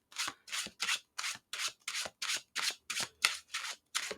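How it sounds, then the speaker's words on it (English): A tarot card deck is shuffled in quick, evenly spaced riffling bursts, about eleven crisp papery strokes in a steady rhythm, close and quiet with no talk. "I'm going to give it a good shuffle."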